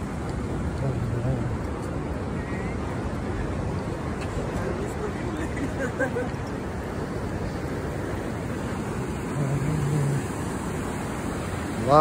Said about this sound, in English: So many good waves.